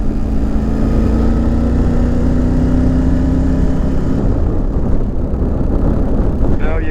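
Triumph Tiger 900GT Pro motorcycle engine running at higher revs, a steady droning hum that turns rougher and more rumbling partway through, with wind buffeting the microphone throughout.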